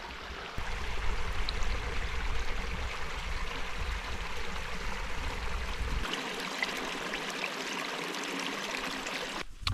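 Creek water flowing steadily along a Grant Creek tributary on the west and northwest side, a continuous close rushing and trickling that drops in low rumble partway through, with no talking.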